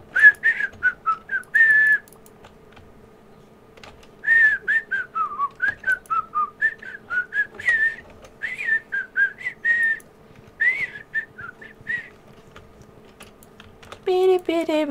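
A person whistles a lilting tune in short melodic phrases with pauses between them, close and clear, with typing clicks faintly underneath during Stardew Valley play.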